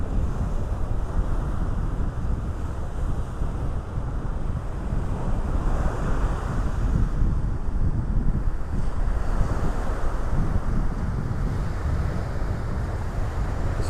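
Steady ocean surf rolls onto a beach in North Naples, Florida, under a gusty breeze, a continuous loud wash of breaking waves mixed with wind buffeting the microphone, with no voices.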